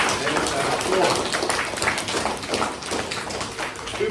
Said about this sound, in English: A big round of applause for the students and Class